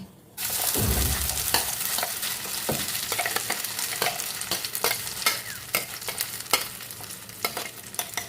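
Giant taro (mankochu) pieces hit hot oil in a pan on low gas and fry with a steady sizzle, while a spoon stirs and scrapes repeatedly, giving sharp clinks and scuffs throughout, with no talking.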